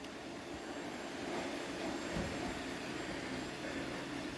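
A new iRobot Roomba robot vacuum cleaner runs with a steady, even whirring hum, constant and moderately close throughout.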